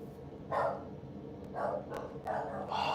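Dogs barking at a home during a livestream: four or five short, moderately distant barks come at irregular intervals over a low background hum.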